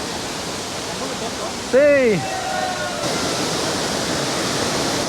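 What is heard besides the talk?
Dudhsagar waterfall, water crashing down and foaming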